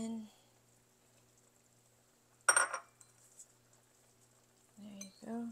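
Chopped ingredients for braised goby fish dropped into a pot, a single short clattering splash between brief spoken remarks.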